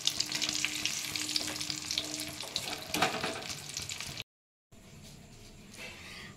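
Rui fish pieces frying in hot oil until browned, a dense steady sizzle with bright crackle for about four seconds, then a brief silence and a quieter, duller sizzle afterward.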